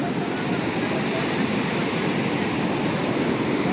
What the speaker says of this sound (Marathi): ही लाट मोठी येणार आहे आली आली आली